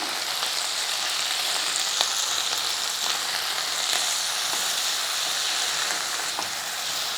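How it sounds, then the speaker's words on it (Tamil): Onion and tomato with salt sizzle steadily in a hot pan while being sautéed, a continuous close frying hiss with faint crackles and occasional stirring clicks, no voices. "உப்பு எல்லாம் சேர்த்து நல்லா வதக்கிக்குங்க."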